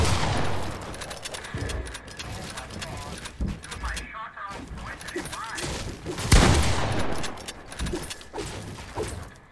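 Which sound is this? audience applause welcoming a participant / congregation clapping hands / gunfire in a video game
gunfire in a video game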